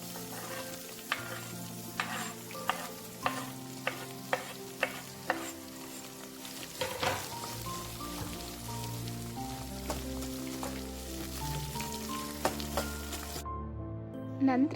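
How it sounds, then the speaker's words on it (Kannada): Chopped onions sizzle and fry in a pan while being stirred, a steady crackle punctuated by regular spoon or spatula taps against the pan. "ಹೆಚ್ಚಿಟ್ಕೊಂಡಿರೋ ಈರುಳ್ಳಿನೂ ಕೂಡ ಇದಕ್ಕೆ ಹಾಕ್ಕೊಂಡು ಕೆಂಪುಗಾಕೊಂಡು ಮಾಗಿಸ್ಕೊತೀನಿ"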